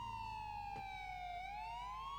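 A police car siren wails in a chase in GTA IV, a steady sweeping tone that falls, then rises, with a brief thump in the middle.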